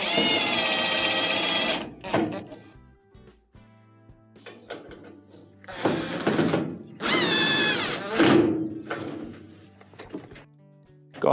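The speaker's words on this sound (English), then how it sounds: "put it in by hand before you start drilling." A power drill whirs in several short bursts, driving screws into a GE dryer cabinet during a drum bearing repair, with quiet clicks and handling noises in the pauses.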